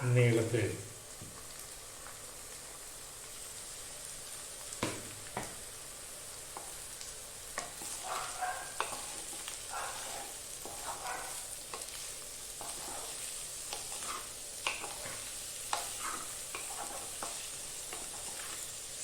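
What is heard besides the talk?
onions sautéing and being stirred in a frying pan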